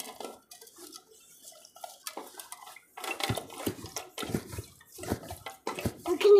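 Water is poured into curd to make buttermilk, heard as short close splashes and pours with light clinks of a vessel, in bursts separated by quiet gaps.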